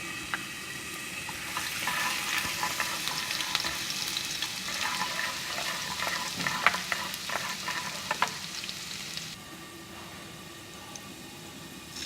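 Finely chopped garlic browning in chili oil in a pan, a steady close sizzle with crackling pops and stirring scrapes, which eases into a quieter simmer near the end.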